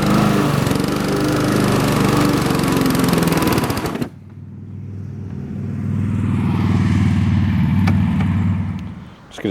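A Honda HRX217 walk-behind lawn mower engine runs loud and close with a rough, steady drone, drops away abruptly partway through, then comes back up to a strong running roar.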